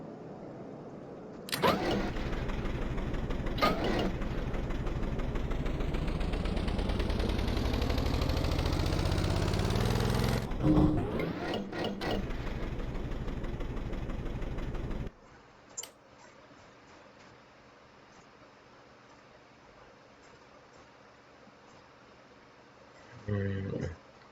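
A custom-built car engine in the Stormworks game starts and revs, its pitch climbing steadily through a loud run before cutting off, followed by softer mechanical idling and a brief burst near the end.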